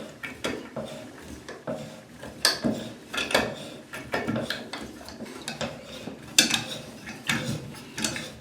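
Diverter tub spout being unscrewed counterclockwise by hand, with faint scattered metallic clicks, scrapes and creaks of threads turning, close and quiet with no talk.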